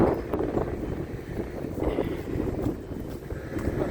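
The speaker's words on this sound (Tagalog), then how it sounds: "Ay, hangin." Steady wind rushing and buffeting against the microphone, a continuous low rumble with gusty swells throughout.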